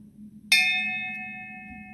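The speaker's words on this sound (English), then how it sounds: "If I strike the bell" A metal bell is struck once, giving a sharp clang that settles into a clear, sustained ring at its resonant pitch and slowly fades, heard alone at close range.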